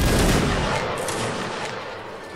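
A single massed musket volley from a line of infantry in the Napoleonic Wars video game Mount and Blade, a loud broad roar of many shots at once that decays over a couple of seconds.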